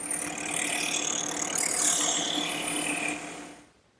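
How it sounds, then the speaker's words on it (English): A steady mechanical whir and grinding hiss of a small drum sander spinning in a drill press, smoothing the inside edges of a cut in wood, close up, fading out at the end. "smooth up the inside edges of that cut just using a little drum sander set up in my drill press"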